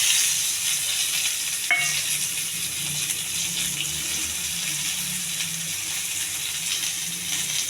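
Sliced onions, urad dal, cumin, mustard seeds and curry leaves fry in hot oil in a pan for a mushroom curry. A steady, dense sizzle hisses throughout, with a brief clink partway through.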